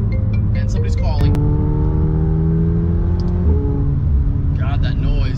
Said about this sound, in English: I think track mode opens up the exhaust.